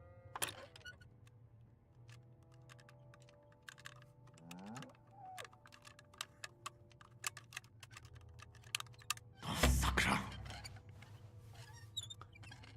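Keyboard typing and mouse clicks while lockpicking in the game Kingdom Come Deliverance II: scattered close, sharp clicks throughout, with a dense loud burst of rapid keystrokes near the end.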